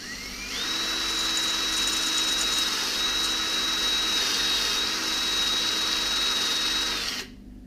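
A power drill spinning a wire brush to clean a car bolt during a Nissan Versa subwoofer install, a steady loud whine held for about seven seconds before spinning down.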